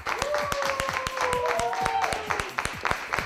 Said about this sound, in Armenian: Ծափահարություններով դիմավորենք նրան սոված խաղերի տաղավար